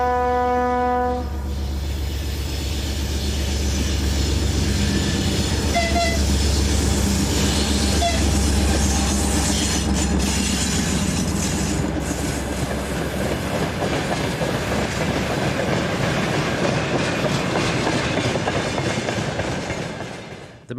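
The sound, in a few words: freight train of empty wagons passing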